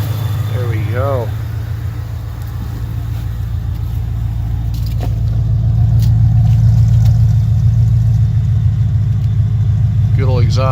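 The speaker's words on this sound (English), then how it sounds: "Listen to the exhaust, listen to the blower whistle." A 700 WHP Shelby GT500 with long-tube headers, an X-pipe and Dynamax Ultra Flow mufflers idles with a deep, steady, loud exhaust rumble that swells slightly midway, with a faint high blower whistle above it. Someone speaks briefly at the start and end.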